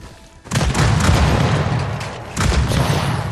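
A grenade explodes in the video game Reincarnation Insurance Program with a loud, sudden boom, followed by a sustained rumbling roar and then a second heavy blast that keeps rolling on to the end.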